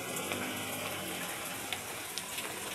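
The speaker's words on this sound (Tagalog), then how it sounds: "lalo na ngayon ang lakas ng ulan" Heavy rain during Typhoon Kristine near Pritil Market, a dense, constant hiss with scattered sharper drops landing close by.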